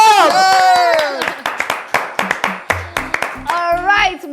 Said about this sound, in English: Let's clap for them one more time.